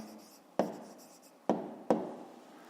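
A pen scratches answers into a school notebook in three short, sharp strokes spaced a second or so apart, close and quiet with no talking.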